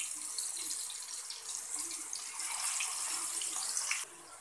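Masala-coated chicken fries in oil in a pan on a medium flame, a steady bright sizzle and crackle that swells and then drops off suddenly at the end, close and alone.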